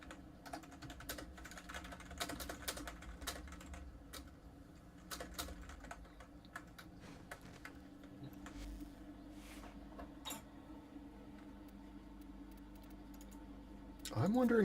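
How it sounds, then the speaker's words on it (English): Computer keyboard typing with bursts of crisp clicks and clacks at varying pace, close and fairly quiet over low background hum, a spoken voice appearing intermittently. "I'm wondering if there's a way for me to minimize the sound from my keyboard"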